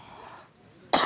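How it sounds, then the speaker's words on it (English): A single loud cough bursts out near the end, close and abrupt, after a quiet stretch with faint background hiss. "And I keep coughing."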